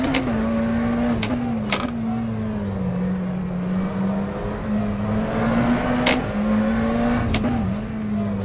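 McLaren Senna GTR race car engine in the rFactor 2 sim at the Nürburgring, a loud steady high-revving drone that rises and falls slightly, with sharp clicks of gear shifts at intervals.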